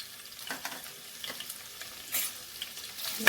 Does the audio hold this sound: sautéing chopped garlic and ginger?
yes